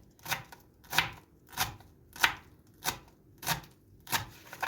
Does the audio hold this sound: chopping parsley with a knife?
yes